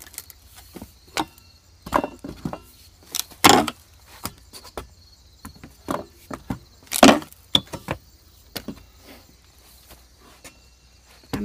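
A wooden pallet is pried and torn apart outdoors for stove fuel: scattered sharp cracks and splintering snaps of wood, a few loud and close, separated by quiet gaps with faint insect chirping in the background.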